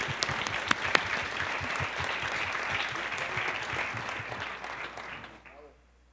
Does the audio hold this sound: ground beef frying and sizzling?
no